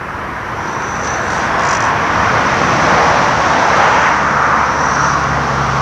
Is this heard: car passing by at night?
yes